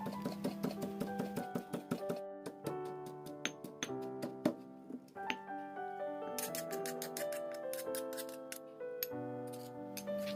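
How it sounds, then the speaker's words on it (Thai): Small garlic cloves are pounded finely, giving a quick run of sharp, rhythmic knocks that keep going steadily under loud background music. "กระเทียมกลีบเล็กครับตำให้ละเอียด"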